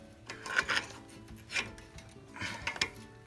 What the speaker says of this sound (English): So now I'm going to go ahead and pry off one of these old brake pads